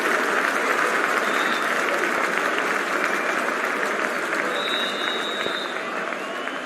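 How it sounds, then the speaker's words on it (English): A stadium crowd in the Cricket 24 video game claps and cheers steadily before a T20 match between India and Afghanistan, a dense, continuous wash of applause with a couple of faint whistles. "We're about to get underway and already the crowd is up and about."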